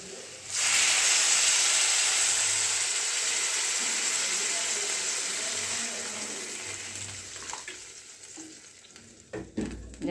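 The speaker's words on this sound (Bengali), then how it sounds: "এবার আমি জল দিয়ে দেবো" Water poured into a hot pan of spiced potatoes bursts into a loud, close hiss that slowly fades, followed by stirring clatter at the end.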